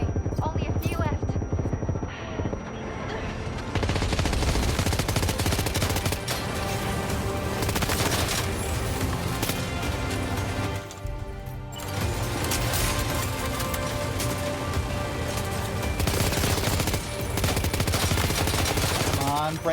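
Sustained rapid gunfire in Death Stranding 2, loud dense bursts of automatic shots filling nearly the whole stretch with a brief lull midway, overlaid with other battle noise and occasional speech.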